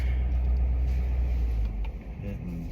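A 2022 Ford F350 pickup towing a loaded tractor runs with its engine brake engaged, a steady close low rumble that eases slightly toward the end.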